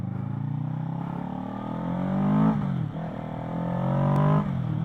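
Kawasaki Ninja 650 motorcycle engine revving up through rising pitch, easing off briefly, then climbing again, a loud steady drone close by with no talk.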